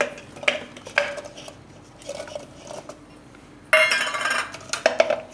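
Chopped apple pieces dropping into a steel mixer jar for an oats apple smoothie, a few sharp clinks and clatters spread out in bursts, then a longer scraping, rattling stretch near the end, close and clear.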